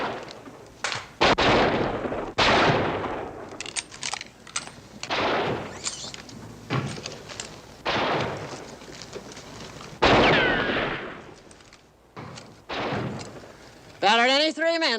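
Cannon fire in a Western action film set at a fort: repeated heavy booming blasts mixed with voices and a busy soundtrack, with a whistling tone near the end.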